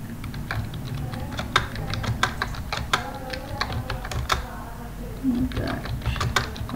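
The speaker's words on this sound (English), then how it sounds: "I'm typing" Steady, close typing on a computer keyboard while entering an echo command for a batch file, a dense run of quick key clicks with brief pauses, continuous across the whole stretch.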